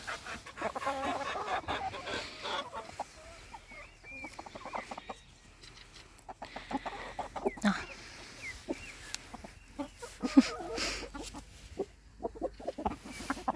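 Hens clucking and murmuring close by in irregular bursts, with occasional louder squawks and faint ambient farmyard noise, at a farmyard in Yaremche, Ukraine.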